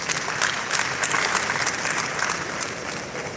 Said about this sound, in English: one round of applause for him, please